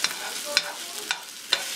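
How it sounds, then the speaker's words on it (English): Food being stirred in a frying pan over a stove fire, four quick scraping strokes at an even rhythm over a faint steady sizzle, close and moderately loud. "and you stir your food"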